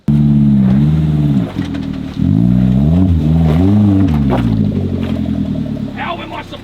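A Suzuki Jimny's engine revs up and down in rising and falling surges while it climbs an off-road track, loud and close, with a brief dip before the revs build again.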